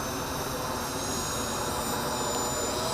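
A Freewing Rebel V2 RC jet on a 5S battery screams at full throttle, its electric ducted fan producing a steady, loud, unbroken roar that holds constant for the whole stretch, with no talking over it.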